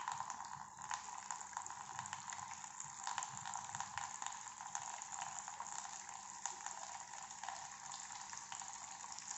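Water flows steadily from soil samples during a permeability test, a constant faint trickling and gushing that runs without a break and with no voices.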